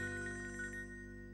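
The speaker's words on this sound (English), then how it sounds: "Your phone's ringing." A phone ringtone plays a short melodic electronic pattern indoors, fairly quiet, fading into a steady tone with no voices.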